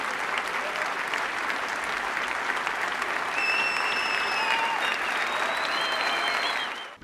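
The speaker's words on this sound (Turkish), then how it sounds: "Kuru Otlar Üstüne filmiyle 11 dakika boyunca aralıksız ayakta alkışlanan Nuri Bilge Ceylan ve oyuncuların" A festival audience gives a standing ovation for Nuri Bilge Ceylan and the cast of his film Kuru Otlar Üstüne, with sustained, even applause that swells slightly midway. Faint cheers or whistles rise above the clapping before it fades out at the end.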